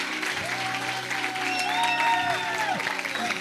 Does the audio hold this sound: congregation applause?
yes